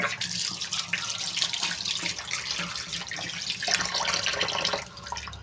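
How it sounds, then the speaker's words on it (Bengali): Tap water runs steadily into a sink or bowl to soak large cut fish pieces, a close, continuous splashing gush that softens slightly toward the end. "চলো এটাকে একটুখানি ভেজাই জলে"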